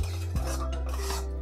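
A spoon scrapes and clinks steadily against a hot kadhai while vermicelli is stirred and roasted, with a continuous low burner-like hum underneath and no talking.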